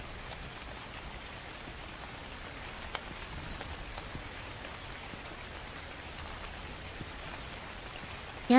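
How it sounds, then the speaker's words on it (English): Steady rain on a stormy, windy day, a dense even hiss of drops falling on surfaces with no pauses, heard alone at moderate level throughout. "It's been stormy here today with rain and strong winds."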